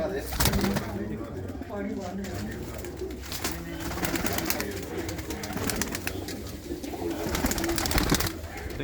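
Pigeons coo repeatedly in a loft, soft throaty calls running throughout under nearby men's conversation.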